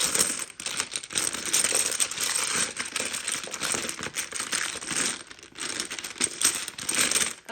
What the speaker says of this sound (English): I'm going to kind of shuffle the Dominos around just a bit.